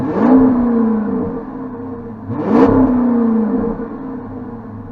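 2005 Dodge Magnum RT with a 5.7 liter Hemi V8, close up: two separate revs that rise and fall back to a steady idle rumble.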